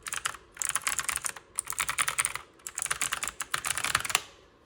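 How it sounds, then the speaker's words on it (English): Rapid, crisp clicking of a mechanical keyboard with Cherry MX Blue clone switches being typed on up close, in three bursts separated by brief pauses. "This is a clone of the MX Blue, Cherry MX Blue clone"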